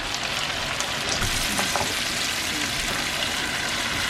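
Chicken karahi masala fries in a pan while being stirred, giving a steady, dense sizzle with occasional scraping of the spoon, close and even in level throughout.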